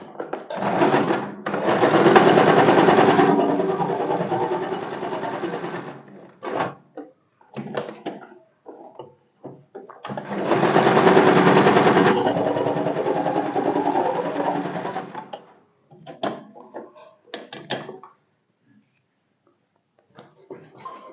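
A sewing machine stitches tucks on a blouse in two long, steady whirring runs of a few seconds each, close by, with someone talking between the runs amid short clicks and handling sounds.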